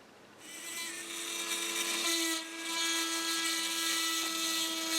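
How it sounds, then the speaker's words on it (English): A small high-pitched 2mm drill whines steadily, briefly dipping in speed midway before spinning back up, close and loud, drilling through a rivet on a die-cast toy car base plate. "I will use a 2mm drill to drill through the rivet and into the post."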